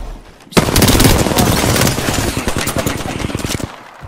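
Automatic gunfire in a video game shooter, a loud sustained burst of rapid shots that starts abruptly and runs on for several seconds before trailing off, with no talking.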